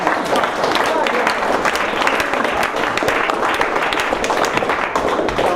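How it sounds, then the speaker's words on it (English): Sustained, even applause from a small improv class fills the whole stretch, dense and steady from start to finish with no pause. "Give yourself a round of applause."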